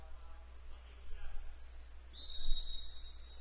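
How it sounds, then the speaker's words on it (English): A referee's whistle at a college match between Mercyhurst University and Washington & Jefferson College, calling a penalty foul: one long, shrill, steady blast midway through, heard over a low hum and faint background murmur. "Either that or that was a penalty foul whistled on Tyler Francis, drawn by Matthew Davis."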